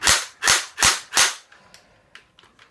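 Four loud, sharp shots in quick succession from an M83 A2 M4A1 replica gun fired in an automatic burst, followed by faint mechanical clicks and rattles with no talking.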